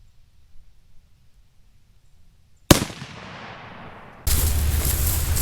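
A single sharp rifle shot at an outdoor range during a pre-season rifle check cracks out of near silence, decays into a long echo, then gives way to a sudden steady roar of noise.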